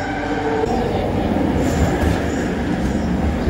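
Rumbling ride aboard a Kuala Lumpur metro train with a front window view, a steady loud wheel-and-car drone throughout with faint squeal and rail clatter, no talk.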